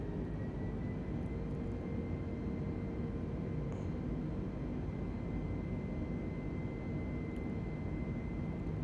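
Steady broadband engine roar of an Airbus A320neo in a flight simulator game, constant and loud throughout with a faint thin whine above it, no talking.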